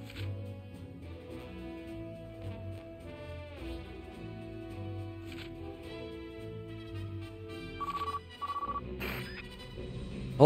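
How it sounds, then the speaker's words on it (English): Trader phone ringing in the video game Gravity Rush, a repeating electronic ring over game music, steady and fairly loud before breaking off near the end. "they're calling me on my trader phone."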